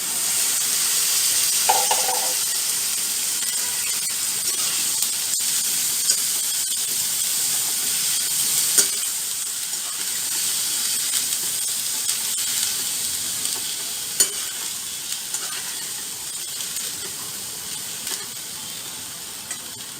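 Boiled chickpeas sautéing in hot oil, a loud, continuous hiss and sizzle with occasional soft scrapes of stirring, close and steady throughout, no voices.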